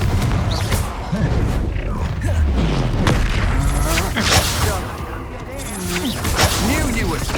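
In the video game Hogwarts Legacy, a Confringo spell explodes amid combat, giving loud booming blasts and heavy thuds layered with clattering impacts and game effects, while a voice speaks through the dense, noisy mix.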